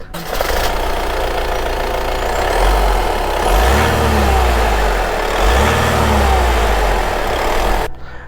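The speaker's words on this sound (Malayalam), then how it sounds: "ഞാൻ വണ്ടിയുടെ എൻജിൻ സൗണ്ട് ഒന്ന് കേൾപ്പിച്ച് തരാം" A Honda City diesel car engine, with about 100,000 km on it, idles with a deep, steady rumble up close, rising twice in brief, gentle revs before settling back down.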